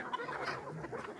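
Chickens clucking in a crowded poultry shed of about a thousand hens and roosters, a steady mass of overlapping clucks and calls close by, with no voices.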